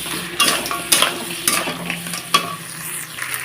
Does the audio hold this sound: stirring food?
yes